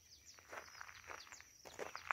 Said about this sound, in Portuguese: o som dos pássaros.